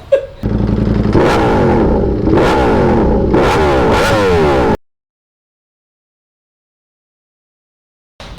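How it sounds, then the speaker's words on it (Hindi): A Ducati V4 motorcycle engine idles loudly and close, a steady deep rumble with slight rhythmic surges for nearly five seconds, then cuts off into silence before a brief sound returns at the very end. "और ये V4 की आवाज।"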